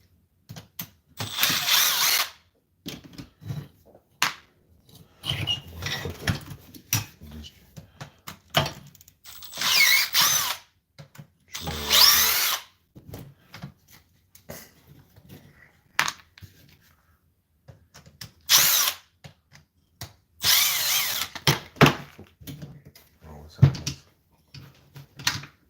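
A power drill backs screws out of a Kraton 6S RC car on the workbench, with several separate short whirring bursts between pauses and small handling clatter.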